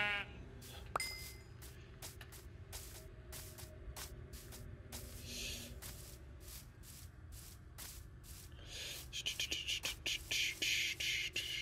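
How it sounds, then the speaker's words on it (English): A sheep bleats in the Minecraft video game, a brief call amid clicky game sounds and rapid scraping or digging noises that grow louder toward the end, with no talking. "there's a sheep"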